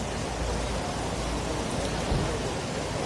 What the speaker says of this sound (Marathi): इथे जोरदार पावसाने आगमन केलेलं आहे आणि पाऊस चालू झालेला आहे इथे